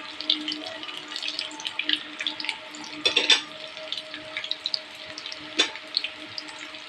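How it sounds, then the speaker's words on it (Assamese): Food fries in a pan with a steady, soft crackling sizzle close by. A couple of louder scrapes or stirring clatters break through it briefly. "এইদৰে অলপ দেৰি ভাজি ল'ম"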